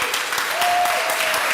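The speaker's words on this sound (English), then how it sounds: "Can we give a round of applause to Maurice Escan?" A Rotary club audience in Oakland claps for a social media team member, a short burst of close, lively applause from a room of people, steady for its brief length.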